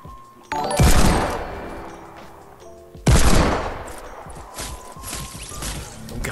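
Gunfire in the video game Fortnite, during a solo match against squads at Tilted Towers: two loud, sharp bursts of shots a couple of seconds apart, each trailing off into rattling echoes and scattered further shots.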